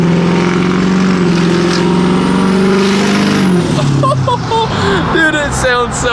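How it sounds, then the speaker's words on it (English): A non-VGT 6.0 Powerstroke diesel truck engine roars loud and close on the throttle, a sustained heavy drone that rises and then shifts pitch, with a voice talking over it. "And we will do a little quarter throttle, half throttle, and 3/4 throttle pull."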